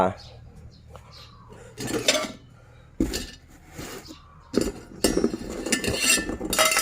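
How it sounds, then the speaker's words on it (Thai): Metal ladle clinking and scraping against a pot while cooked rice is scooped out, several bursts of clatter spread across the clip, close and moderately loud, with faint talk and a low background hum. "เดี๋ยวตักข้าวให้คุณตา"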